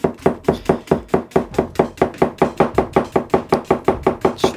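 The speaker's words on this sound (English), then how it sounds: "Straight up and down chopping is crazy." Straight up-and-down chopping on a cutting board, a fast, steady series of about twenty sharp knife knocks at an even rhythm, close and loud with no talking.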